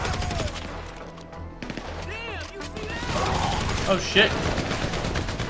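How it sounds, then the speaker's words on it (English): Automatic gunfire and mechanical clatter from Grand Theft Auto V build into a dense, loud barrage of shots, while someone talks briefly over the game action. "How about we shoot this thing?"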